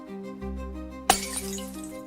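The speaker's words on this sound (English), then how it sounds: "I throw a glass bottle to the left." Glass bottle thrown and shattering in the video game The Last Empress: a sharp single crash about halfway through over steady game music, followed by tinkling fragments.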